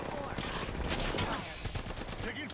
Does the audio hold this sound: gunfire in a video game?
yes